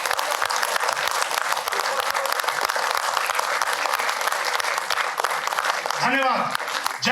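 Theatre audience standing to give loud, sustained applause as a tribute, dense clapping filling the hall throughout, with a brief voice or cheer rising near the end.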